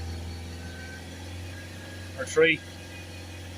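A Ford Transit MK8 diesel engine is held at raised revs, giving a steady, even low hum with no change in pitch, while someone speaks briefly partway through.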